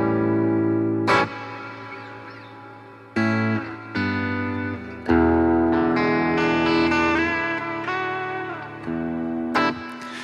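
Guitar through a BOSS GT1000 room reverb effect, loud strummed chords in several separate bursts, each ringing out with an ambient room-like decay, no talking.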